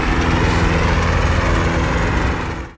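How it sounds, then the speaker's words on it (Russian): A Husqvarna TC 138L garden tractor mowing at full revs, its engine a loud, steady, close drone with blade whine that holds constant before cutting off sharply at the end. "Нужно всегда косить на максимальных оборотах, чтобы достичь максимального крутящего момента ножей"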